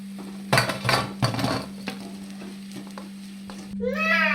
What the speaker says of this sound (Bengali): বেশ মুচমুচে করে ভেজে নেব তিতে শাকের চপ